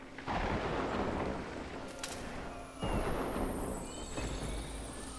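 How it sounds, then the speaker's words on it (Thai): A heavy thunderstorm in the video game Ori and the Blind Forest, with steady rushing rain and two loud rumbling thunder surges close by, one near the start and another midway, and no voices. "เราทั้งหมดก็จะจดจำคืนนี้ไว้เมื่อฉันเสียโอริให้กับพายุใหญ"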